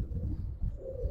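Giribaz pigeons give soft, low, throaty coos in a few short pulses, close but quiet, with no one speaking.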